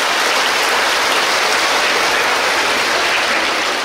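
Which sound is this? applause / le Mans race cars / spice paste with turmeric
applause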